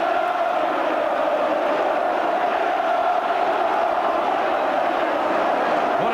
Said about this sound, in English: And the crowd now in tremendous voice.